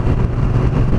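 A Moto Guzzi V9 Roamer motorcycle engine runs loud and close in sixth gear, a dense, vibrating low rumble that holds steady for a brief moment.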